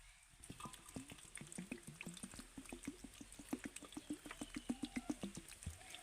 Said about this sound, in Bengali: আমি বেলের মধ্যে একটু জল দিয়ে দেব